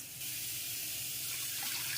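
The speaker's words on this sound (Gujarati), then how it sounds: "હવે એ તુવેરની દાળને 2 વાર ધોઈને હું કુકરમાં બાફવા મૂકીશ" Water runs from a tap in a steady stream after a brief quiet start, as pigeon pea lentils (toor dal) are rinsed in a sink.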